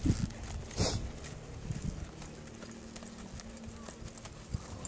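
A ridden horse breaking into a trot, its hooves clip-clopping in a steady rhythm close by, starting with a louder scuffle before settling into even beats over faint background noise.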